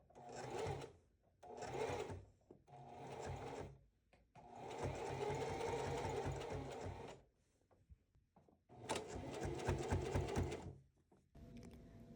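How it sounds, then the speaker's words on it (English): A sewing machine top stitches bias tape around cloth pads in several short bursts of rapid, close mechanical whirring separated by brief pauses. "Now you can go in and do a top stitch all the way around."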